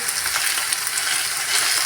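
Sliced pointed gourd (potol) frying with chopped onion in a pan, a close, steady, crackling sizzle that continues evenly throughout without speech.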